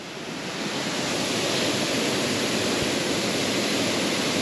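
Steady rushing water of a winter stream crossed while riding a Husqvarna 701 motorcycle, a broad continuous wash of noise that swells slightly at the start and then holds evenly, close by with no voices.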